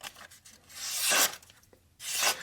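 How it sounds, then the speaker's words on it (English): Miguron Malory knife blade slicing through paper, making two quick, crisp rasping swipes close up with a short pause between them and no talking. "definitely gonna slice through that paper there with no issues"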